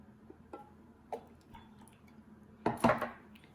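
A spoon stirs Thai iced tea with evaporated milk and ice in a glass, producing sparse clinks and taps, then a louder cluster of rattling ice near the end.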